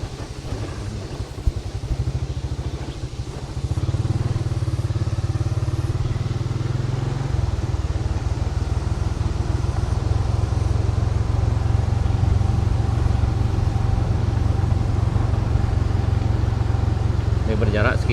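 A motorcycle travelling a landslide-blocked road at Bayang, a loud steady engine drone close by that climbs into a stronger, fuller roar after a few seconds and holds with slight shifts, a voice talking over it.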